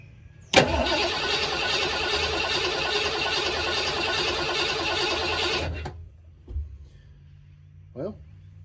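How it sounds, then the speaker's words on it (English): A 1986 Ford Bronco engine cranks over loudly and steadily for about five seconds and then stops, followed by a couple of faint knocks. "actually sounds pretty decent turning over"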